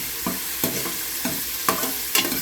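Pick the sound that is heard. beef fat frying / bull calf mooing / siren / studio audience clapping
beef fat frying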